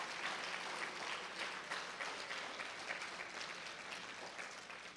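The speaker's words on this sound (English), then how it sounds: "Everybody but the 54 people, applaud the other 54 right now." An audience at the I Love My Neighborhood poster contest award ceremony applauds, dense sustained clapping from many hands filling the room evenly, fairly distant and unbroken for several seconds.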